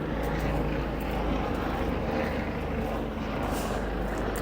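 Constant loud drone of a helicopter passing overhead, its rotor and engine noise holding steady throughout with no voices over it.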